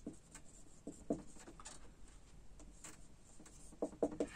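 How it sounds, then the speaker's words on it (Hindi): Marker or chalk writing on a board during a DNA replication botany lecture, heard as faint scattered scratchy strokes and taps in small bursts over a quiet room hum, with no talking. "अब मैं यहां पे लिखता हूं"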